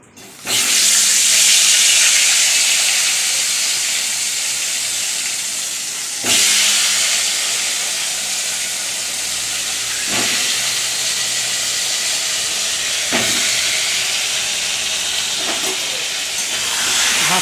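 Potatoes sizzle as they drop into hot oil seasoned with salt and turmeric, a loud bright hiss that flares at the start and again at several points as more pieces go in, then settles into steady frying.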